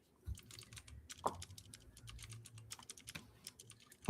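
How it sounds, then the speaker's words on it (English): Fast clicking keystrokes on a loud computer keyboard, near but faint, in an irregular rapid rhythm with a few heavier taps and no talking. "You've got one of those loud keyboards."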